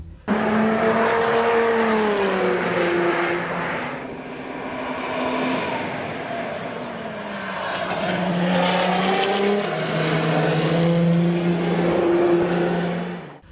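Peugeot 908 HDi diesel Le Mans race car: a loud, continuous engine roar whose pitch climbs and drops repeatedly as it accelerates and shifts, with no voices.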